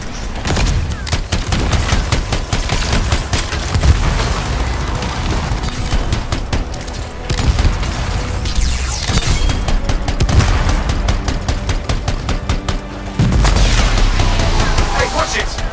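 A really large gun fires continuously in the video game Anthem during an ambush, with dense, loud rapid bursts and booming blasts that overlap in a chaotic barrage.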